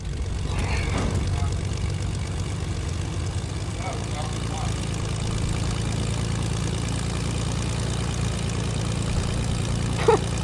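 A plane engine in a video game, a steady low droning propeller hum throughout, loud and constant, with people talking over it.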